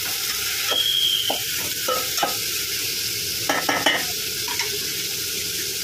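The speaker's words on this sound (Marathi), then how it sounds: "तर त्याला थोडंसं परतून घेऊया।" Pav bhaji mixture with tomatoes sautés in a pan, a constant sizzle with scraping stirs and a few clinks of the spoon against the pan, close and without talk.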